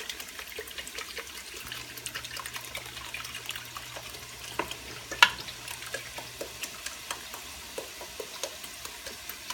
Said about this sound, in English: I'm going to go ahead and add my 32 ounces of beef broth.